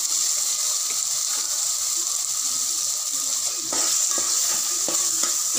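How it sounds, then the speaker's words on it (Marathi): Coconut, garlic and ginger paste sautés in hot oil for a goat-head mutton fry, giving a steady close sizzle with a few stirring scrapes and clinks toward the end and no talking. "ही छान परतून घ्यायचे आहे तेलामध्ये।"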